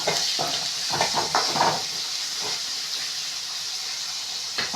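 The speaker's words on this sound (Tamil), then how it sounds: "இப்போ நம்ம நல்லா இது மாதிரி வதக்கிக்கலாம்." Coriander sautéing in a pan for a Tamil fish kulambu gives a steady, close steam-like hiss, broken by a cluster of scraping stirs early on and one more near the end.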